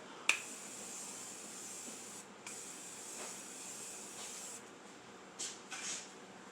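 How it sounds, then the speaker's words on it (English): Tarte Miracle Mist setting spray misted onto a face, several short hissing spritzes near the mic, a sharp first burst and a few quick puffs later, over a steady background hiss with no talking. "So I have my Tarte Mist, Miracle Mist. I'm just going to set my face."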